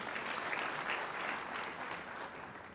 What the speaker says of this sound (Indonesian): tepuk tangan untuk Surabaya